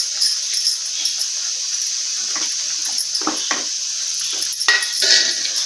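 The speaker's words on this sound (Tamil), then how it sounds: "இப்போ நம்ம உருளைக்கிழங்கு எல்லாத்தையும் அப்படியே சேர்த்துடலாம்." Potatoes tipped into egg curry gravy in a pan, a wet sizzling hiss with scattered soft clatters and scraping as the pieces land and shift, close and fairly loud throughout.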